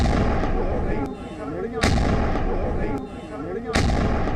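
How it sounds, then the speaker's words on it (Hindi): Blast echoes roll through Narwal's transport area in Jammu. Three heavy booming reports come at even intervals, each with a long rumbling tail, and no voices are heard. "एक बार फिर सुनिए इसकी गूंज को, और आप सुनकर अंदाजा लगा सकते हैं कि कितना बड़ा ये एक ब्लास्ट किया गया है"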